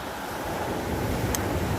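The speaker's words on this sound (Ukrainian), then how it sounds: "Гарні хвилі." Sea waves on the Tyrrhenian coast of Italy wash steadily as a continuous broadband roar, fairly loud and close, with wind buffeting the microphone and no voices.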